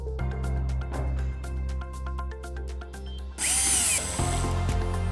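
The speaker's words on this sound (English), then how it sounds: "Now unscrew the bottom shell to separate it." Power screwdriver whirring in short bursts as it unscrews the bottom shell of a BLUETTI Elite 30 V2 portable power station, with a louder, harsher spin near the end, close and steady with no talking.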